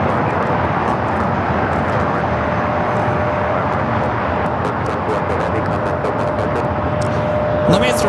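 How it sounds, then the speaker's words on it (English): A Japan Airlines Boeing 787 Dreamliner bound for Osaka roars down the runway at LAX, a loud, sustained broadband jet rumble that holds steady throughout. "Up next we have the Japan Airlines Dreamliner."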